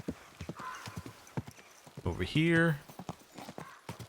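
Horse hooves clip-clop steadily on a town street in Kingdom Come: Deliverance II, with a loud whinny midway, while someone talks over the footsteps.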